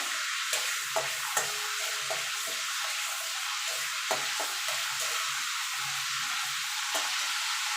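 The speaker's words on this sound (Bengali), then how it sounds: "ফোড়নটা একটু ভাজা ভাজা করে নেব।" Bay leaf, cinnamon, cloves and cardamom frying in hot oil for a potato chicken kosha, giving an even, steady sizzling hiss with a few light spatula taps, close and continuous with no talking.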